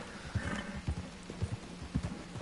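Horse hooves clip-clopping in a PS4 video game, a steady rhythmic trot of soft thuds, moderately close and fairly quiet, with no talking over it.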